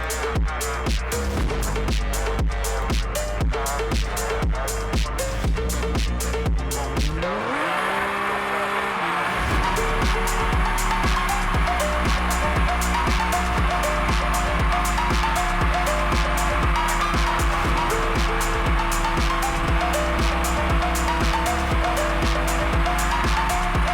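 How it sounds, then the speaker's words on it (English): A car in Car Parking Multiplayer burns its rear tires in drift mode, the engine revving steadily with sustained tire squeal. There is a brief dip partway through, then a loud, continuous roar and screech through to the end. "Do the same process as before by using drift mode to help you burn the rear tires."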